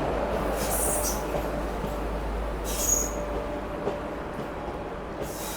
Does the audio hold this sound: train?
yes